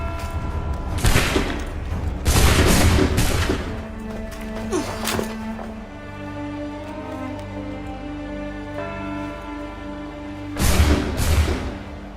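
A musket volley fires in the video game Assassin's Creed III, giving several loud booming shots in rough bursts that echo, with a long ringing tonal decay between them and another heavy blast near the end.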